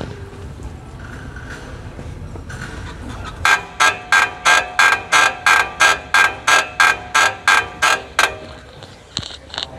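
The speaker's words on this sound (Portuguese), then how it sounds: "Viu esse barulhão aí? Pois então, se a sua caminhonete fizer esse barulho aí, você vai descobrir agora o que que é." Lowered Toyota Hilux 2.5 pickup suspension gives a run of about fourteen loud, evenly spaced creaking clunks, close by, after a few quieter seconds, then a couple of fainter knocks; no one speaks.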